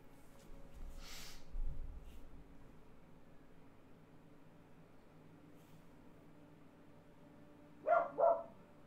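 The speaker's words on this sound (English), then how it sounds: "this dog of mine barking at squirrels" A dog barking at squirrels, two sharp barks heard faintly, at a distance, after a muffled thump and quiet background noise.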